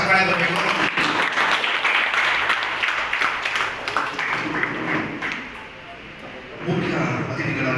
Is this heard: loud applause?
yes